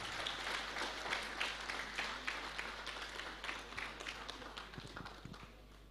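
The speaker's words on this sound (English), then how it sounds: "Kindly welcome him with big round of applause." A conference audience at a national gathering of company secretaries claps to welcome a speaker, a steady patter of many hands heard from a distance, fairly faint and fading slightly toward the end.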